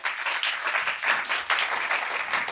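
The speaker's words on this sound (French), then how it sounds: "Daniel Batoula, que vous pouvez applaudir." A studio audience applauds as psychiatrist Daniel Batoula is welcomed onto a French talk show, with dense, even clapping at close range that pulses slightly and runs through the whole span.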